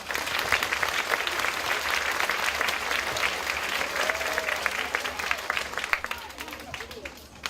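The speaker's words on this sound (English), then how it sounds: "give them a round of applause, please" Steady audience applause fills a school's 50th anniversary celebration, many hands clapping continuously at a fairly loud level, with faint crowd murmur underneath.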